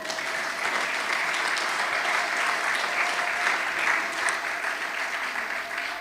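An audience claps together in a steady, sustained round of applause, heard from a distance and even in loudness throughout.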